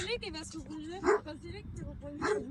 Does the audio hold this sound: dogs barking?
yes